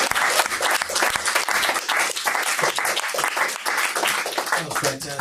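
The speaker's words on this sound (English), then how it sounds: "Please, applause." Audience applause fills a venue during a talk on sound, dense sustained clapping from a large crowd at steady loudness throughout, with voices mixed in under it.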